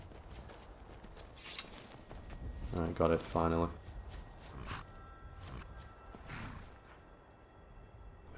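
Hooves of a wild horse in Skyrim clopping and scuffling in a short burst, with a few hollow thuds among soft ambient game sound, while someone speaks briefly.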